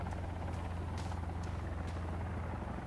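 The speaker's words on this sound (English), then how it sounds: "The helicopter flew away." A helicopter in the video game Sons Of The Forest drones steadily with a deep, continuous rotor and engine rumble throughout, staying loud and even as it flies off.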